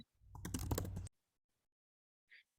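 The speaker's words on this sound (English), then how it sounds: "he's got an IBM keyboard, one of those big ass, buttons" A loud IBM computer keyboard clatters in a quick burst of clicky keystrokes lasting about a second, then silence and a single faint key tap.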